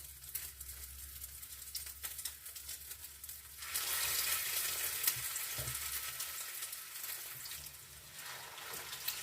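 Steady hissing sizzle of bread, spread side down, frying in a hot pan on a gas stove, growing louder and brighter partway through, close and continuous with no talking.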